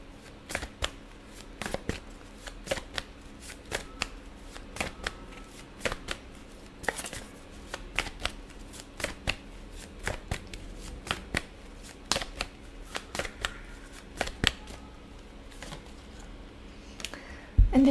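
Tarot cards are shuffled close up with a steady run of crisp riffling snaps and slaps in a quick, irregular rhythm, moderately loud and with no voices.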